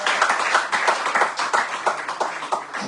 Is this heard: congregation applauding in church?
yes